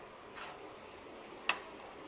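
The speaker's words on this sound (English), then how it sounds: "We mash all the tomatoes and they are simmering as well. And we'll keep stirring also." Mashed tomatoes simmer in a pan for palak paneer while being stirred, giving a faint, steady hiss broken by a soft scrape and one sharp spoon tap near the end.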